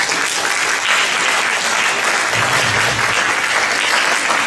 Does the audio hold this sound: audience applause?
yes